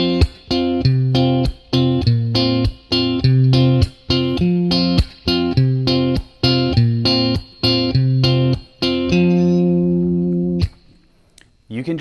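A guitar strums a chord progression in a steady rhythm, each chord struck in repeated bursts with brief gaps, loud and close, before a final chord rings out and fades.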